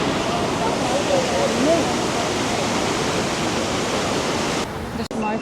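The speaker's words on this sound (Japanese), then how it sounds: "来たで、イグアスの滝、" Iguazu Falls on the Brazilian side roars as a dense, steady wall of rushing water, with voices talking over it before the roar drops away near the end.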